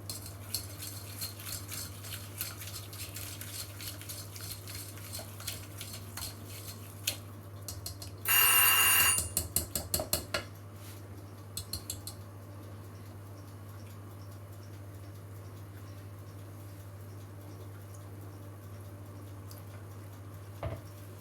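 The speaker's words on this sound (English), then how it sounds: "Might break out my whisk." A whisk clatters briefly in a bowl while shortbread is being mixed: a short burst of metallic stirring and clinking, then a few fading taps over a steady low hum in an otherwise quiet kitchen.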